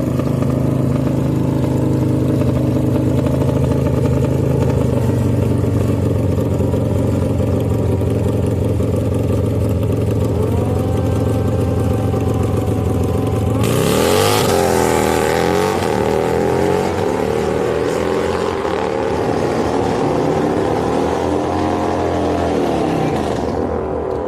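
Drag racing cars, including a Porsche, run down the strip: a loud, steady engine drone holds for about fourteen seconds, then gives way to a harsher, broadband roar with sweeping pitch changes as the cars pull away.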